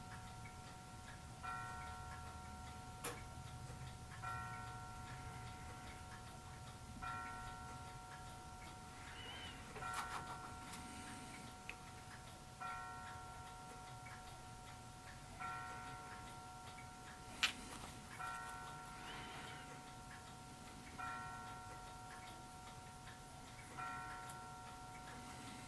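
Steady, quiet ticking of a clock near twelve o'clock, with faint regular ticks repeating throughout alongside soft periodic tonal chimes, heard alone without talk.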